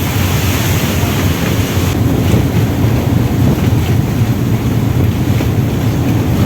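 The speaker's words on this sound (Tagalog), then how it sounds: "Lalaking alon." Large waves churn around a boat crossing the open sea between Mindoro and Batangas, with steady wind buffeting the microphone. A continuous roaring wash stays loud from start to finish.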